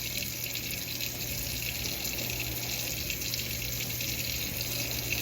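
Lavender and chive herbs being rinsed under a running kitchen tap, a steady, even rush of water pouring into a sink that holds constant throughout, with no talking.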